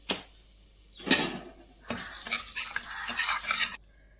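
Eggs frying in a spoonful of oil with chili powder, turmeric and salt: a brief sizzle and scrape, then a louder burst of steady frying and stirring that stops abruptly, with no talking.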